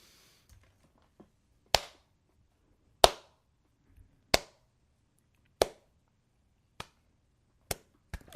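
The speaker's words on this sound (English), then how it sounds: "Worthy of a slow clap." Slow clap: single sharp hand claps spaced about a second apart, crisp and isolated in a quiet room, gradually edging slightly closer together toward the end.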